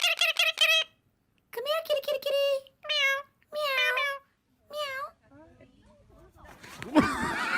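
A cat gives about half a dozen clear, fairly close meows in a loose sequence with pauses between them, followed by some faint rustling and a brief noisy burst at the end.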